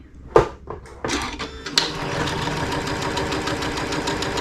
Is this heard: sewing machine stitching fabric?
yes